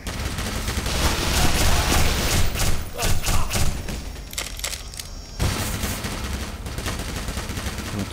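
Rapid bursts of gunfire from Black Mesa, a Half-Life remake, crackle and thump continuously, loud and close, with brief pauses between volleys.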